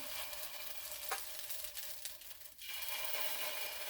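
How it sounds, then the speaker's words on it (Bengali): Batter ladled bit by bit onto a hot oiled tawa gives a steady, fairly quiet hiss of sizzling that dips briefly and returns, with no talk. "তেলও গরম হয়ে গেছে, তাওয়াও গরম হয়ে গেছে, এবার আমি ব্যাটারটা একটু একটু করে দিচ্ছি"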